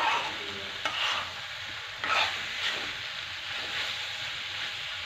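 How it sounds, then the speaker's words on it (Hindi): Aloo matar methi vegetables frying in a hot kadhai over a high flame, a steady sizzle with a few sharper scraping stir strokes near the start and middle. "देख सकते हैं हम तेज आँच पर इसको भून रहे हैं।"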